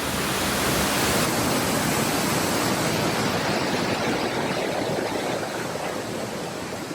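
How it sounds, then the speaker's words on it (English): A dense, constant roar of falling water from a waterfall at the Hermitage in Scotland fills the air, loud and unbroken, with no voices. "inside you can see a beautiful view of the waterfall"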